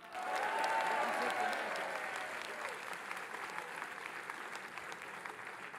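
Crowd at a political public meeting in Vendée applauding loudly and steadily, dense clapping that peaks early then slowly thins while staying sustained to the end.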